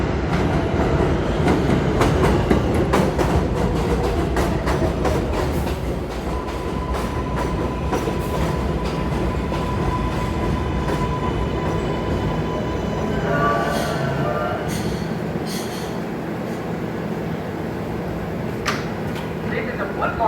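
A New York City R142A subway train fitted with Metroflexx brakes runs on the 4 line, a loud, steady rumble and clatter of wheels with a sustained whining tone through the middle, heard from on board.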